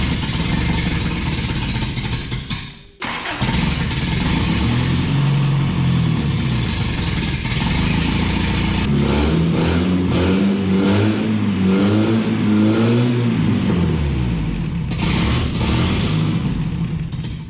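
A 1993 Toyota pickup with a troublesome fuel-injected engine running loudly, catching after a brief dip, then repeatedly revving up and down in rising and falling sweeps, close and steady throughout.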